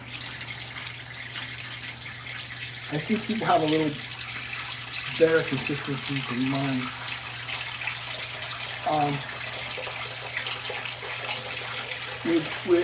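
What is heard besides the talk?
water running from tap filling a sink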